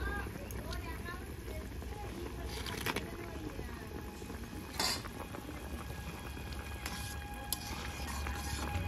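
A curry with fried lentil dumplings, winter flat beans and bata fish bubbles in a pot, a steady low boiling burble with occasional utensil clinks, and a voice faintly present beneath it.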